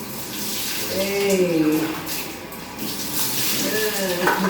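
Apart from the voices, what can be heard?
water running while rinsing a cat in the shower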